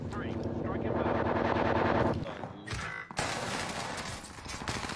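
Gunfire in Call of Duty on Rebirth Island: rapid automatic bursts crackle loudly amid dense game noise, with a brief gap before more shooting, while a player talks over it.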